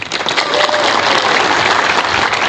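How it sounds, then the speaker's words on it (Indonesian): Inmates at Cipinang prison clap together in a loud, dense burst of applause that holds steady at close range for about two seconds, with no talking over it. "coba tepuk tangan."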